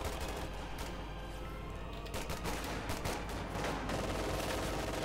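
Thompson submachine guns and BAR rifles fire in the Company of Heroes 2 video game, a dense, continuous rattle of overlapping automatic bursts with sharp individual cracks, loud throughout with no talk.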